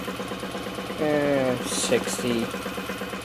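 A small Stirling engine fitted with a new displacer runs with a steady mechanical chatter, while someone talks over it in the foreground.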